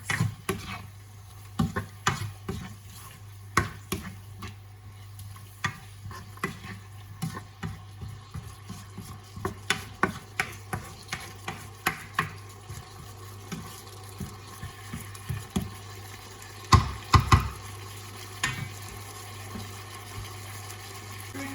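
Creamy chicken and mushroom pasta sauce being stirred in a pan, with a steady run of soft spoon scrapes and clinks over a low hum and a couple of louder knocks near the end.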